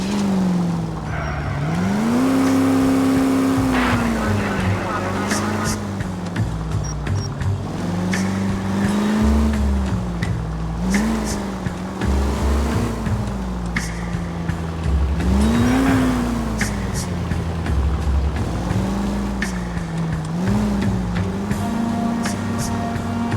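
A car in the video game L.A. Noire drives hard with a loud, steady engine drone, rising and falling revs as it shifts gears, and occasional tire squeals.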